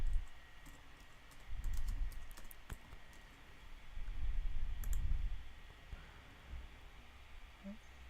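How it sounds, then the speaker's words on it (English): Fingers tap a computer keyboard in a quiet room, producing short bursts of faint, uneven clicks with pauses between them. "I would go and just type in Kylie Jenner"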